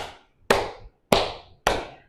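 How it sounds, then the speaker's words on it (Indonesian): Three sharp hand claps in a classroom teaching demonstration, spaced about half a second apart, crisp and close, each with a short ringing decay in a quiet room. "Pernah dengar nggak orang tepuk tangan, misal gini."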